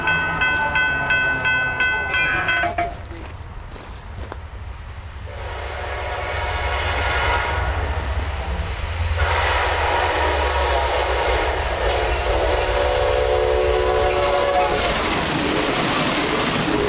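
Amtrak passenger train 73, led by locomotive 1869, sounds its horn with several tonal blasts and then roars past on the Norfolk Southern Charlotte main line at Harrisburg, North Carolina, the rumble and clatter growing loud and continuous.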